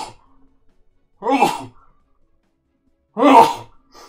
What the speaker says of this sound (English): 1 second, I'm gonna sneeze.